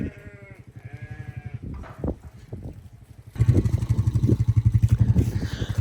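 Sheep bleating in a flock being herded toward a farm gate, repeated overlapping bleats with a motorbike engine running close by and growing louder toward the end.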